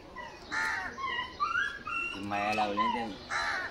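Dogs whine and yelp in short bursts, a couple of brief cries close by, with some voices in the background.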